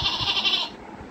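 A person mimics a goat with a short, quavering bleat, held briefly and then fading out.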